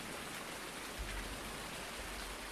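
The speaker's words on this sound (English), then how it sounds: "And it is still raining." Steady rain falls in Farming Simulator 19 on a Pacific Northwest farm, a constant dense hiss of drops with a low rumble swelling briefly midway, heard alone without voices.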